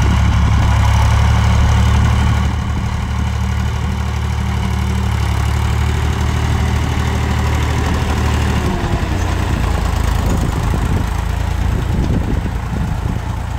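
A tractor engine chugs steadily while ploughing a small field, a loud low rumble that is heavier for the first couple of seconds, then settles into a continuous idling-like drone with rattling vibration throughout, no voices.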